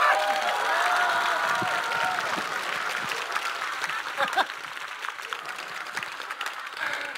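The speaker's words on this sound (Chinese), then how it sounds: "掌声，掌声，不要挂。" Studio audience at a Chinese comedy roast show breaking into applause, a sustained burst of clapping from a crowd that rises at once and then gradually thins out.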